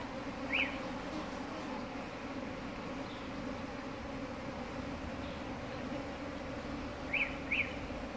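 Bees buzz around outdoor hives in a steady low drone, with a few faint bird chirps breaking through now and then.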